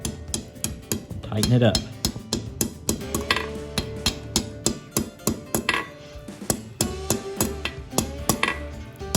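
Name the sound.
hammer blows forging a pigtail curl on a coal rake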